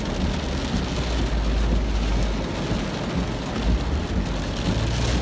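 Heavy rain pounds a car windshield during a tornado chase in Illinois, a dense, loud, unbroken roar of drumming drops with a low rumble underneath.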